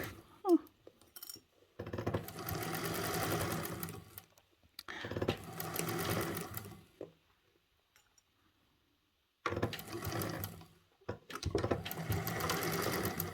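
Sewing machine stitching forward and then in reverse, rapid mechanical clattering in four close bursts separated by short quiet pauses, with faint clicks between runs.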